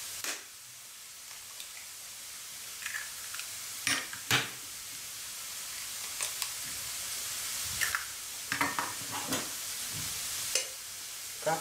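Chopped onion frying in a pan for lavash börek, a steady soft sizzle throughout with scattered close clicks and taps of utensils, no talking.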